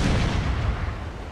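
Naval gunboat cannons firing in a Total War: Shogun 2 sea battle, a dense, heavy boom with rumbling low end that fades slightly over a brief moment, no voices.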